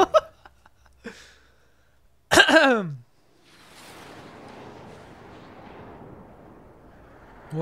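A sharp, loud blast of missile fire in Tekken 7 story mode, with a roaring crackle, followed by a long rumbling wash of debris-like noise that slowly fades, with faint clicks before it.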